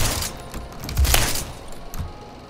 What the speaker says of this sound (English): Okay, KSG hip firing.